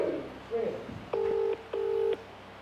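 A phone call's dialing tone sounds as two steady, evenly spaced beeps, each about half a second long, preceded by faint background noise.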